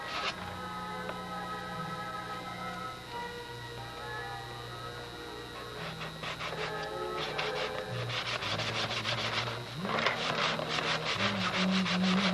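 Sandpaper scrubs over a clear-coated Brodak Cardinal model airplane in quick, rhythmic rubbing strokes that grow busier toward the end, under a steady background hum.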